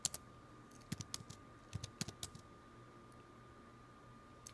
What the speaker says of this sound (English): I'm typing random things,